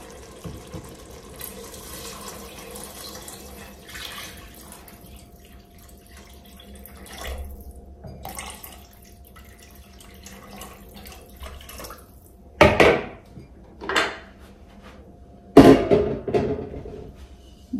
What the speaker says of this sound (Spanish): Te coloco agua fría, miren